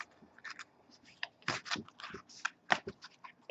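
A deck of tarot cards being shuffled by hand, quiet irregular riffling and scraping bursts, close and soft with no clear talk.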